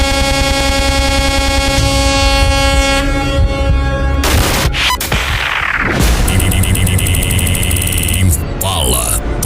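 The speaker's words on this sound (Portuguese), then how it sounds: "Sinta o som da buzina." Loud vehicle horn blasts used as a radio-show sound effect, sustained honking tones over a dense music bed, with sharp swooshing effects and bursts cutting in midway.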